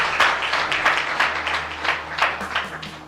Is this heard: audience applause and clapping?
yes